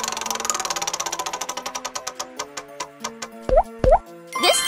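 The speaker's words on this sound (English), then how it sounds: "Now let's spin the wheel for the third time." A cartoon prize wheel spins with rapid clicking ticks that slow steadily into spaced clacks as it winds down, followed by a couple of bright boing-like plops at the end.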